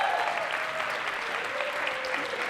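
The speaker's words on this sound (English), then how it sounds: "give yourselves a round of applause" Steady, dense applause fills the room from an audience at a public budget engagement forum, continuous clapping with no pause across the short stretch.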